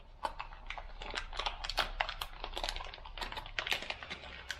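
A sealed plastic bag holding a BFI shift knob for a Mini Cooper is torn open and handled up close. Quiet, dense crinkles and clicks come in quick irregular bursts.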